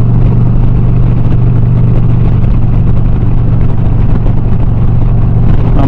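An Indian Challenger motorcycle cruises on an open road, its engine holding a loud, steady low drone with constant wind rush the whole way.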